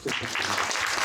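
Audience at a Korean film release-day stage greeting for 'A 10,000th of a Second' (만분의 일초) claps in a full cinema, a dense, steady wash of hands lasting about a second with faint voices mixed in.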